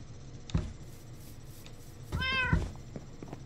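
A cat meows in the Minecraft video game. There is one short mew and then a longer, wavering meow, each standing clear against a quiet background.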